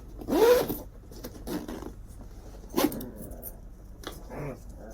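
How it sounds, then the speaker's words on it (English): The zipper on an Annie travel bag is pulled closed in a few short, scratchy bursts spread across several seconds, close and moderately loud, with pauses between pulls. "What we want to do is do our zipper up"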